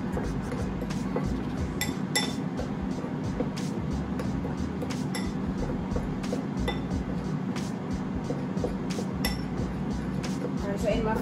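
Flour seasoned with all-purpose seasoning, baking powder and baking soda is stirred around in a bowl, giving a steady close rustle with scattered light clinks of a utensil against the bowl, and a voice talks over it.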